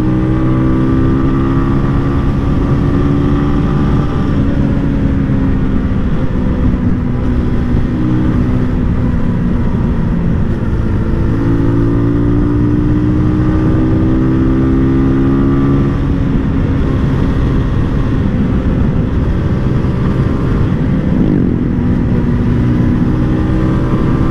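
Benelli Leoncino 250 motorcycle ridden on the road, its engine droning loudly and continuously close to the rider, pitch climbing and dropping through gear changes under heavy wind rush.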